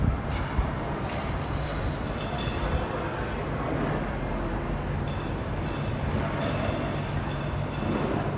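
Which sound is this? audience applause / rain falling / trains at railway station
trains at railway station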